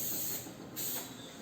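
An oil spray hisses onto a hot frying pan before cooking an omelette, a close, steady spray burst lasting about a second and a half with no talking.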